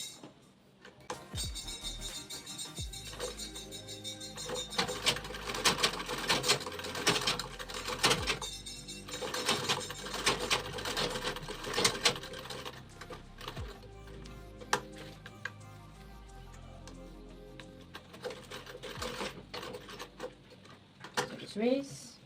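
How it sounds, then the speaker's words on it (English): A sewing machine stitches a box stitch on a bag pocket in bursts of rapid mechanical clatter, stopping and starting with small clicks and handling noises in between, fairly quiet and close. "we're not back stitching since we're sewing the box stitch"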